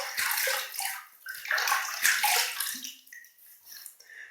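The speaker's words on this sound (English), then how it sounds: "I'm going to wet my face." Water splashes and sloshes in irregular bursts as hands wet a face at a sink before a shave, close and fairly soft, with a short pause near the end.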